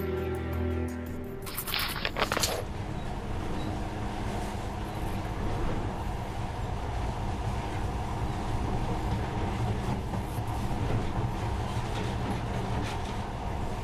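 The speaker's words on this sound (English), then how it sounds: "this monorail seems magic, doesn't it?" A monorail train in Metro Last Light gives off a steady rolling rumble and rattle, opening with a brief louder burst and then holding an even, continuous drone.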